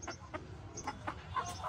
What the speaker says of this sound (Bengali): এইটা হচ্ছে আমাদের ছাদের ফার্স্ট ফ্রেন্সি মুরগি